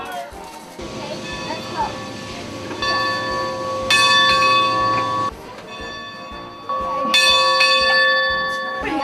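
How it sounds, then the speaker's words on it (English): A large bell at the Museum of Transportation in St. Louis rings out loudly in several bright, sustained strokes whose tones hang and overlap, with people talking nearby. "on our way to ring the bell"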